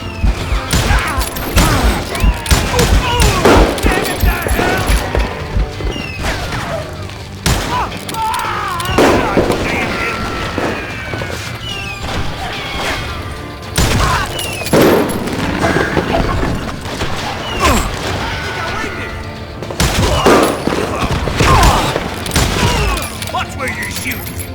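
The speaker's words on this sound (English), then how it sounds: "Watch where you're shooting." Call of Juarez Gunslinger shootout: repeated loud gunshots and rapid bursts of fire in quick succession, with booming reports and ricochet-like cracks, under and between voices talking throughout.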